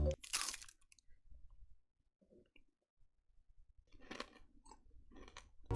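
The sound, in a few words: chewing crunchy Cadbury candy bar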